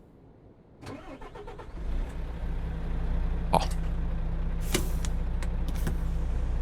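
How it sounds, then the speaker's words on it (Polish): A MAN truck engine in Euro Truck Simulator 2 cranks over with a short starter whir, catches, and settles into a steady low idle rumble. A few sharp clicks and hisses sound over it, and a voice briefly calls out. "włączę silnik, posłuchajcie sobie"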